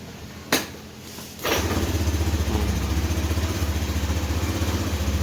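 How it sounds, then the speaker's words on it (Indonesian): A motorcycle with a faulty electric starter is kick-started on the first try: a couple of sharp mechanical clunks, then the engine catches. It settles into a steady, close, throbbing idle. "Starter nggak hidup, tapi kalau engkol sekali engkol hidup."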